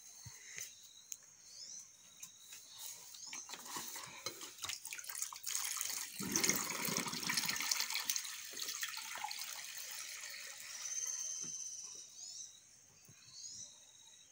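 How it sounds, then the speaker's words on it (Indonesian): Air blown through a hose into water, a steady low bubbling and gurgling that swells in the middle and then continues softly, with no talking. "sekarang kita akan meniup selang dan air"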